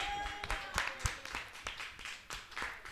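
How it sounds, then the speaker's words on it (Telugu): A church congregation clapping in a worship service, a fairly quiet, quick rhythmic patter of many hands near the listener, steady for the whole stretch with no one speaking. "ఒకసారి గట్టి చప్పట్లు కొట్టండి"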